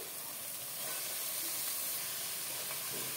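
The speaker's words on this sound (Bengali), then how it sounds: "আর মশলাটা কষানো হয়ে গেছে, দিয়ে দেবো কেটে রাখা বাঁধাকপি।" Chopped cabbage tumbling into a pan of well-fried spices and tomato for a Bengali vegetarian dish, giving a steady, close broadband sizzle and hiss that swells slightly partway through and holds without speech.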